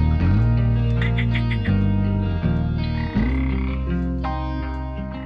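Frogs or toads croak in a loud, steady run of low, buzzy calls that repeat in quick pulses and overlap with no pauses, with no talking.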